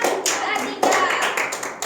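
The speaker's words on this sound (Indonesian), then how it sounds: "beri tepuk tangan untuk Ananda" A classroom of students claps for a classmate, a brief spell of sharp, uneven hand claps close by, with a quick louder burst near the middle and a voice briefly heard under it.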